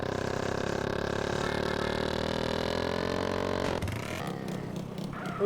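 A motorcycle engine in the video game GTA San Andreas drones steadily at high revs, then drops off with a gear change and clattery rumble before revving up again at the end.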